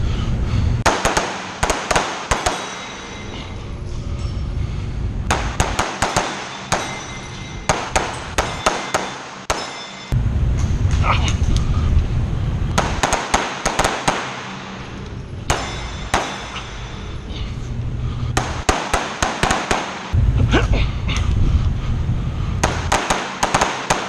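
Rapid pistol gunfire on a shooting stage, comparing a ported Platypus with a Staccato XC: loud, sharp reports in fast strings of several shots, separated by short pauses, repeating across the run, with no talking.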